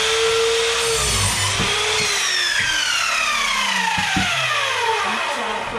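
A hand saw cuts through a clamped length of timber for a shed door and workbench build, steady back-and-forth strokes rasping loudly and continuously up close, with no talking.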